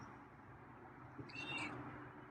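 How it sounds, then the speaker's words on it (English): A feral cat gives a single short, fairly faint meow partway through, close by against a quiet room background. "Oh, pretty meow."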